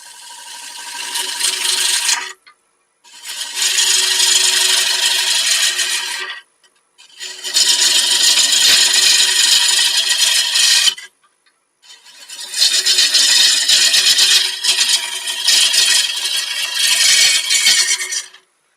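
A bowl gouge cutting wood on a sturdy lathe with a 2 horsepower motor makes four long, loud, close rasping cuts, each separated by a brief silent gap.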